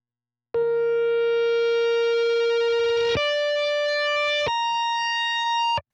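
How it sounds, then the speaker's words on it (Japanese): A reversed guitar sample used for an ambient layer plays as sustained, bright tonal notes that swell and change pitch in three steps, each ending abruptly, clean and alone. "まずギターのサンプルをリバースします。"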